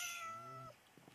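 A cat meows in a Minecraft village, a single drawn-out, clear meow followed by a few faint softer sounds, close and alone with no talk.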